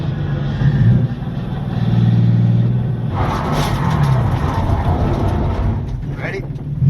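A turbocharged BMW E36 engine misfires while driving, its uneven, rough rumble swelling and dropping in close interior sound, with someone talking over it.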